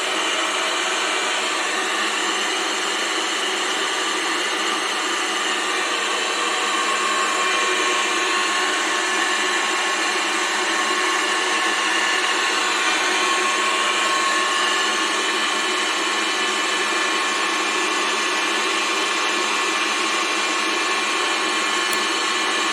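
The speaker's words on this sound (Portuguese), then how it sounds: "uma onda eletromagnética naquela frequência de 108 que vocês viram ali, para cobrir essa estática do plasma" A radio receiver tuned to 108 gives loud, steady broadband static at high volume, a continuous hiss with no breaks and no voices.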